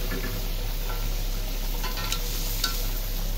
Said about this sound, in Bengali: কষানো মশলাতে দিয়ে দিচ্ছি এই যে ভাজা মাছ